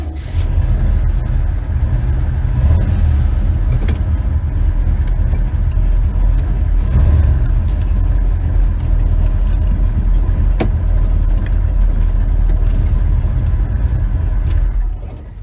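Drag car engine running on race gas with timing near 37 degrees and electric fans disconnected, a loud, steady, close idle rumble holding throughout with brief light rattles.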